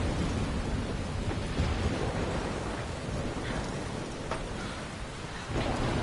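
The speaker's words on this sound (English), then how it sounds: "at the moment, yeah, it's raining pretty hard" Heavy rain pours steadily in the video game Life Is Strange, a dense hiss that fills the whole stretch, with soft thunder rumbling low beneath it and a brief swell near the end.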